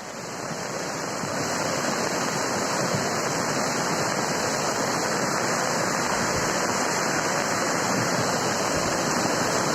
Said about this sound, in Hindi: और जरा नदी का आप सैलाब देखिए।